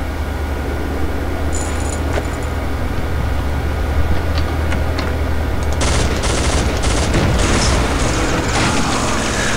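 Gunfire in the shooter game Soldier of Fortune 2, a loud, dense stream of rapid shots and booming impacts that keeps going, growing heavier and more crowded in the second half.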